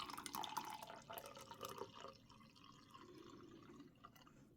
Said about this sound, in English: squeeze out the bag and pour that into your mug